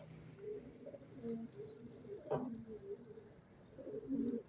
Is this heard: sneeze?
no